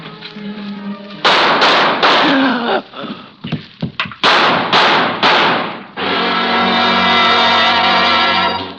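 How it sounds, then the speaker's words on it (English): Several loud, sharp gunshots in an irregular burst, ringing out between sustained louder noise, close and harsh, in a 1944 radio drama. "I hear gunfire."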